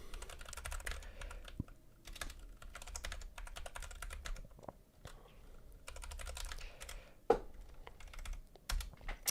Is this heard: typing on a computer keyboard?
yes